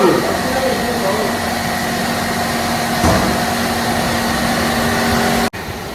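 A motorbike engine runs after servicing at a workshop, a steady mid-pitched hum continuing evenly throughout, with a brief dropout near the end.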